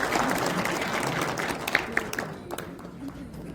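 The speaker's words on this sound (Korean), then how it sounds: "큰 박수로 축하해 주시면 감사하겠습니다." Crowd applause at a year-end gathering where an award certificate is presented, a moderate clatter of clapping that fades toward the end, with voices murmuring underneath.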